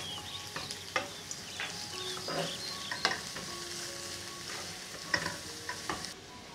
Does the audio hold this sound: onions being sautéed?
yes